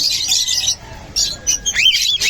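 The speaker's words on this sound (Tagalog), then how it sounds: "So, yan yung mga ibon ni Sir PJ na Alps" Caged birds, including albino and split emerald varieties, chirp and tweet in quick bursts: high, bright calls come in several clusters with short quiet gaps between them, close by and clear.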